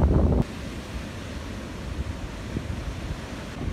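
Steep ocean waves break on the shore after a storm, giving a continuous roar of surf and backwash. Wind buffets the microphone, and a louder gust sounds at the start.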